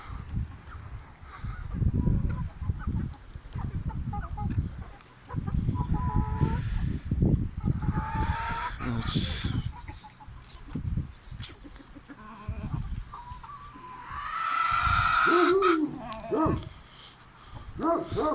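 Village hens cluck and chatter nearby in a farmyard during coop cleaning, with a rooster-like call and other animal noises mixed into a busy outdoor scene.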